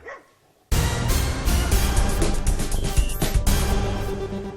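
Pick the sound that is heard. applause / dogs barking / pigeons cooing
dogs barking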